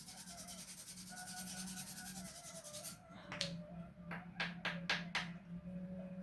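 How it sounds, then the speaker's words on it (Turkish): Careful, gentle hand sanding on a wooden workpiece outdoors: steady soft rubbing strokes, then a few short separate swipes, close and quiet. "Onun için dikkatle zımparalamakta nazik nazik zımparalamakta fayda var."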